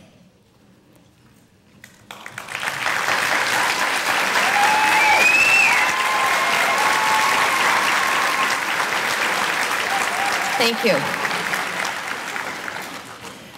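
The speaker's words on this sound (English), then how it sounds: "Let's give another round of applause to our superintendent and our wonderful school board" Graduation audience at Farmington Central High School bursts into sustained loud applause for the teachers and staff, a dense wash of clapping that swells after a brief quiet start, with a voice briefly speaking near the end.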